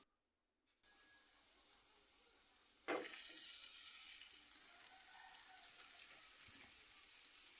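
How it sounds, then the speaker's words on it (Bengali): Chicken pieces dropped into hot oil with garlic-flavoured masala: silence, then a faint hiss, then a sudden bright sizzle that swells and holds as a steady, fairly quiet frying crackle. "ভাজা প্রায় হয়ে গেছে, ভেজে নিয়ে এখন আমি চিকেনগুলো দিয়ে দিব এক এক করে"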